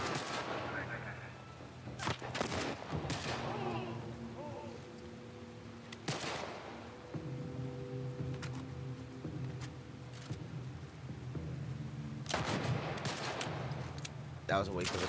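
Gunshots ring out in the video game The Last of Us: a few loud, sharp bursts spaced several seconds apart, some in quick pairs, over sustained tonal game music.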